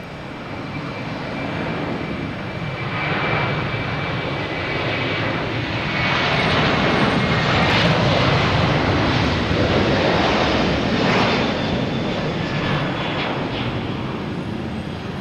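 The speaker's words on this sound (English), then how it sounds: "Next to arrive will be the Lufthansa A380" A Lufthansa Airbus A380 arriving at Boston Logan Airport gives a loud, sustained jet roar that swells over the first few seconds, peaks in the middle with a rushing, pulsing texture, then eases slightly, with no voices over it.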